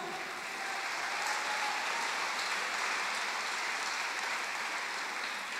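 Steady congregation applause filling a church service during a Cebuano sermon, a dense even wash of clapping held at constant level throughout, with no voices on top.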